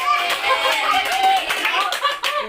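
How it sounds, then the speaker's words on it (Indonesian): Children in a Bible story class clap for a girl named Lili, a brief round of light, fairly close hand claps mixed with young voices and giggles. "tepuk tangan dulu buat Lili."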